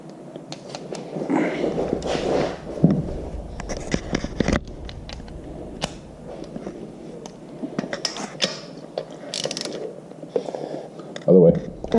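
A child works a wrench to unscrew the spark plug from a small bike engine, producing intermittent metallic creaks and ratcheting clicks close by, with brief muffled voices and handling noise throughout.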